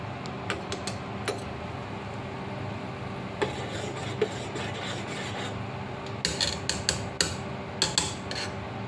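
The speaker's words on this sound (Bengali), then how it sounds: "এই যে দেখেন আমি লাড়া দিয়ে দিতেছি এখন তো এখানে আমি চিনি চা পাতা সব কিছু দিয়ে দিছি" A spoon scrapes and clinks around a pot of tea with sugar and tea leaves, soft rubbing strokes broken by sharp metallic taps that cluster into quick bursts toward the end.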